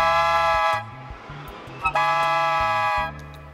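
Loud honking blasts from a walrus blowing a Swiss horn: a long sustained toot, a pause with a short squeak, then another long blast, nearby.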